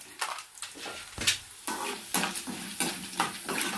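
Mustard seeds, chopped onions, black gram and chana dal fry in hot oil in a pan, a busy crackling sizzle with repeated louder bursts of stirring and spoon scrapes, close and loud with no voices.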